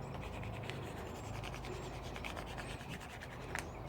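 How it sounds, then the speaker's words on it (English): Continuous close rubbing and scraping of Cricut craft vinyl being pressed down onto a Dollar Tree item, a steady dry scratchy friction sound without pause or speech. "I'm going to keep rubbing to make sure I have everything down."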